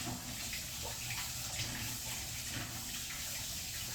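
Tap water runs steadily as something is washed under it while making a sushi party dip, a constant close rushing hiss with no pauses and no talking.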